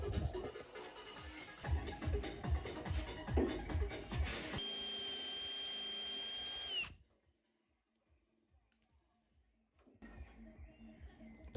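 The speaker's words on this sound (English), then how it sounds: "I'll drill the buffers off." Power drill whirring while drilling the buffers off a bronze-tint heated rear screen from a 1984 Ford Sierra XR4i, with high-pitched spinning and a sustained whine before cutting out to near silence.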